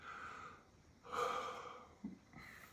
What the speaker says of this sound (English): Don't mind the yawns.